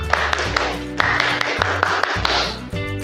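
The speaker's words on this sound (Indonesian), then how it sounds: "tepuk pramuka" A group does a scout-style rhythmic clapping chant (tepuk pramuka) in a classroom lesson, with sharp claps in a patterned beat over steady background tones.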